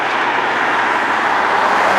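Steady broadband road and engine noise from a BMW M4 Competition G82 on the move, heard from inside the cabin as a constant loud rumble with no talk.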